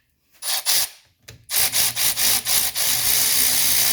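Close rubbing and wiping strokes of a rag cleaning brake fluid off brake parts on a 1985 Mercedes 300D, a series of short rhythmic scrubs ending in a steadier rub, with no talk.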